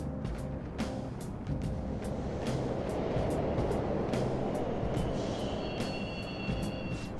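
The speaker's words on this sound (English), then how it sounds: "The trains are totally running!" Subway train rumbling through a tunnel in Persona 5 Royal, a steady loud clattering roar with rhythmic wheel clicks over the rails and a faint high squeal near the end, no voices.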